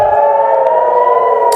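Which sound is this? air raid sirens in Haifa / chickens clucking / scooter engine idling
air raid sirens in Haifa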